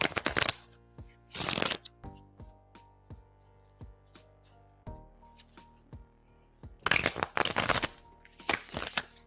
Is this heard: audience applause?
no